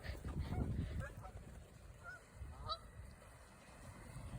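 Geese at the water's edge honk in short, scattered calls over a steady low rumble, fairly distant and soft, with a few overlapping honks in the first half and a brief louder pair near the middle.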